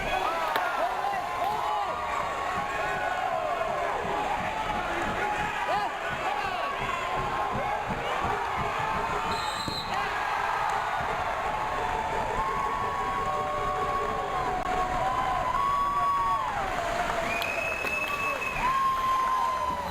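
Crowd noise fills a high school gym at a heavyweight wrestling match between Gilmore and Shenandoah's Cole Lampman, a steady roar of voices and cheers with squeaks and thumps from the mat beneath.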